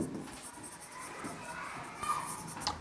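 Marker or chalk scratching across a classroom board as a math formula is written out: faint, continuous strokes with a few short taps, quiet and close.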